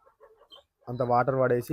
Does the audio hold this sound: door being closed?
no